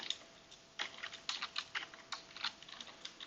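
A computer keyboard is tapped in a rapid, irregular run of crisp clicks, close and fairly quiet, with no voice over it.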